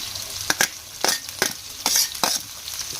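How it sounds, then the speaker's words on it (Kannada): Chopped onions fried and stirred in a little oil in a pan while making veg momos, with soft sizzling broken by several sharp scraping stirs, close and fairly loud. "ಉಳ್ಳಾಗಡ್ಡಿನ ಸ್ವಲ್ಪ ಎಣ್ಣೆಗೆ ಫ್ರೈ ಮಾಡ್ತೀನಿ"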